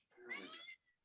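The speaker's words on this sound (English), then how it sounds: "my annoying cat is trying to get in" A single short cat meow, faint and somewhat distant, from a cat wanting to be let in through a door.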